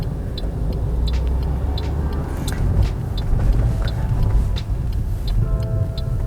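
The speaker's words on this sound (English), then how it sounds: "So I'm going to check my mirror and signal, and I'm going to slowly pull over" Car interior on an Oxford driving-test route, a steady low engine and road rumble easing off while the indicator clicks at a regular rhythm as the car slowly pulls over.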